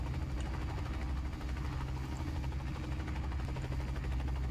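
Steady low drone of the engine and rotor of a UH-1C Huey helicopter in Microsoft Flight Simulator 2020, a constant rumbling hum with a faint rhythmic beat and no talk.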